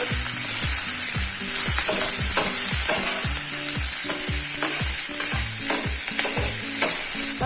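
Sliced capsicum and onion are stirred in a hot pan for egg Maggi masala, with a steady hiss of frying and repeated rhythmic scrapes and knocks of the spoon close by; no voices.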